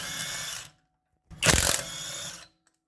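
An impact wrench zips lug nuts off the rear wheel of a 2012-2018 Ford Focus in two loud, close bursts, a short one and then a longer, rougher one, separated by a pause of silence.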